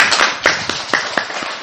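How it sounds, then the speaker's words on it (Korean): A church congregation claps together in a short, loud, close burst of sharp, slightly uneven hand claps that fade after about a second and a half. "박수 한번 칩시다."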